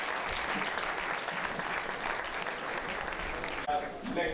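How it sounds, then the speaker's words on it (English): A lecture hall audience at a public lecture gives a brief round of applause, moderately loud and steady, with a voice starting to speak as it ends. "Let's do a very short round of applause,"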